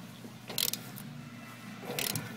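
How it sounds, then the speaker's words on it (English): Metallic ratcheting clicks from a wrench working a stuck bolt out of a faulty AC condenser, two short bursts of ratchet noise over a low steady hum, fairly quiet and close. "attempting to take out the bolt up at the condenser here"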